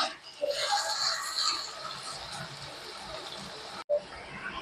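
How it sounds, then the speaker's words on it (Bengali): Potatoes frying in oil in a pan for dry Bengali aloo posto, a steady bright sizzling hiss that runs continuously with a brief cut near the end, no talking. "এই আলুটাকে আমি খুব ভালো করে ভেজে নেব।"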